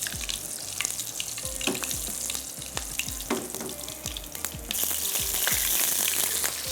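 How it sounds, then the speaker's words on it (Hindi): Slit green chilies crackle and sizzle in a hot pan, a dense, continuous frying hiss dotted with quick pops, growing a little louder and brighter toward the end. "बस हरी मिर्चों को कड़कड़ाने देते हैं"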